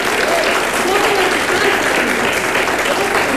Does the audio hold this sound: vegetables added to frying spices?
no